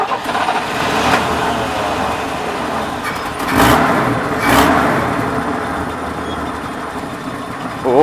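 A Chevrolet C10 truck engine idles with a low, steady rumble throughout, running close and fairly loud, with the level swelling slightly once or twice as if revving.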